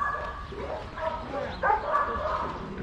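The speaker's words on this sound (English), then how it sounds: "There's an amazing amount of dogs." At an animal rescue shelter in Paphos, Cyprus, a crowd of dogs barks and yips together in a steady, overlapping din, with a faint voice underneath.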